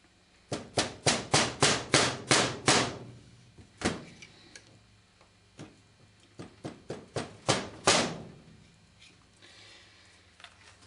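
A rapid series of dull, thudding dead blow hammer taps during reassembly of a Beretta PX4 Storm DAO trigger, then a pause and several more scattered blows, close and fairly soft with no ringing.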